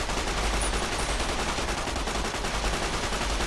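Dense, rapid gunfire fills the video game Fallout New Vegas, a loud, unbroken burst of automatic shots pounding close and constant throughout.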